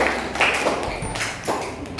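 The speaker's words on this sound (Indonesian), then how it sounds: "Tepuk satu." A classroom of pupils claps once together on the teacher's command during a lesson, a short burst of overlapping hand claps in a room, followed by a brief settling.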